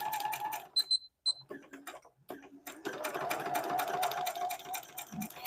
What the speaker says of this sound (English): My machine is still beeping on me.